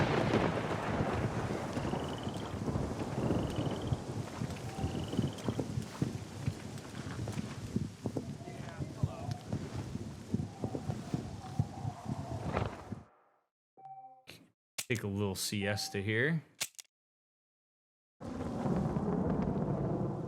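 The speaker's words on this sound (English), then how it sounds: "Still raining, huh?" Steady rain falls in the Red Dead Redemption video game, a continuous hiss with low rumbles that could be distant thunder, until it cuts out abruptly into near silence and brief sparse tones; someone speaks briefly.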